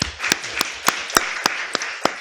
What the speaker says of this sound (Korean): 뜨거운 박수로 이순칠 단장님을 환영해 주셨으면 합니다